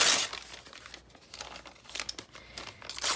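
A coloring book page is torn by hand for a magazine collage, giving dry, crinkly paper rips in a few short bursts, close and fairly loud, with no voices.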